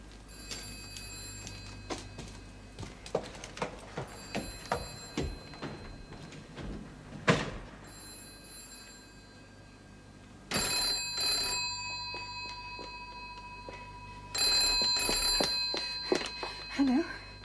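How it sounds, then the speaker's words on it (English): A telephone rings in repeated electronic bursts, moderately loud, separated by quieter stretches with scattered clicks and background noise. "Sounds like the phone's ringing."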